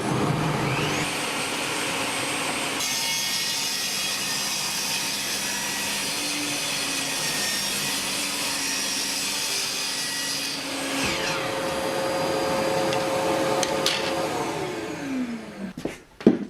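Bosch GTS10 table saw running steadily through a cut in wood, a loud continuous whine that holds for about ten seconds, then shifts in pitch and winds down with a few clunks at the end; no talking.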